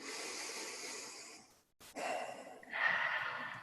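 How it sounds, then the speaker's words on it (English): Deep breathing during a guided meditation, a long soft exhale-like rush, a brief pause, then another close, airy breath swelling louder, with no talking. "take a couple deep breaths for me"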